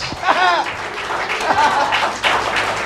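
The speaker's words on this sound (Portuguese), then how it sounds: "Quem pode dar uma salva de palmas para Jesus nessa noite?" A church congregation at an evening service claps for Jesus, scattered applause mixed with voices calling out and singing over it, moderately loud and continuous.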